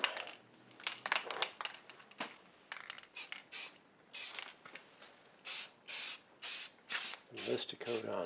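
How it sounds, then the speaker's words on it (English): Short hissing bursts of a spray can misting lacquer onto a 1961 Philips B5X04A radio cabinet, about a dozen separate sprays with a regular rhythm in the second half, close up, with some quiet handling noises between them. "Mist a coat on there. Not too carried away right away."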